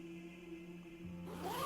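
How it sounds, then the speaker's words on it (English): A body bag zipper is tugged open along its length, giving a rising, rasping zip that starts about two-thirds of the way in over a steady low hum. "the zip makes a familiar zzz sound"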